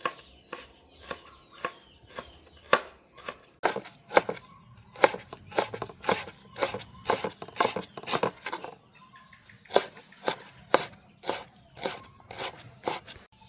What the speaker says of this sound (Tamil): சண்டி இலை வந்து பெரிய இலை தானே, இப்போ அரிவதெல்லாம் சுகம் ஈஸியாக அரிஞ்செடுக்கலாம்